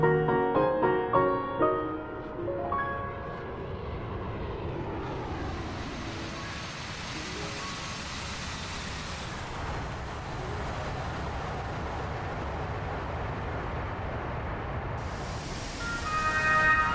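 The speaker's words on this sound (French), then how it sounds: "Le Boeing est au décollage." A Boeing 747 jet airliner takes off in the DCS flight simulator game, its engines building into a broad, steady roar that holds throughout the clip, while tonal synthetic sounds ring out at the start and again near the end.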